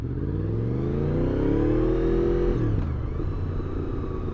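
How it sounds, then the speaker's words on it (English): A Honda VFR motorcycle pulls out of a parking lot, its engine revving up in a rising, loud close whine before dropping off as it moves away, a steady rumble continuing underneath. "And the VFR leaves the parking lot, making its very own special sound."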